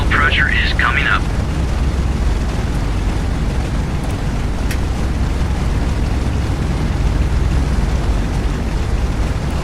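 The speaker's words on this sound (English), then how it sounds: "Engine 1 starting." A B-17 bomber's number one engine starting up in a flight simulator game, a steady loud low rumble building and running continuously, with a short burst of high chirping at the start and a voice speaking over it.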